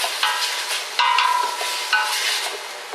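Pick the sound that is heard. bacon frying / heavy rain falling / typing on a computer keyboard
bacon frying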